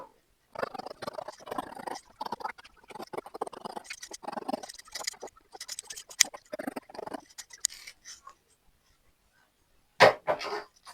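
Scissors snipping through fabric while a peplum blouse with a basket yoke is cut out, a close run of irregular crisp cuts and rustles with brief pauses, then a final burst of snipping after a quiet gap.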